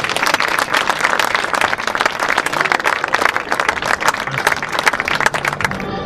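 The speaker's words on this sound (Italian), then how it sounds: "vi prego accogliamolo con un grande applauso" A stage audience at a Pro Loco Siculiana evening event in Siculiana breaks into dense, sustained applause welcoming a professor, loud and continuous with a few faint voices mixed in.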